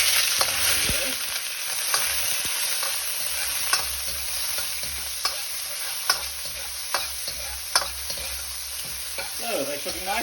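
Raw king prawns frying in hot oil, a loud continuous bright sizzle with regular light clicks of stirring utensils.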